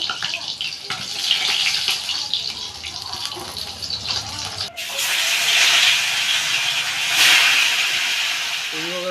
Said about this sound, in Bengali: এই বাকি মাছগুলো এভাবে ভেজে নেব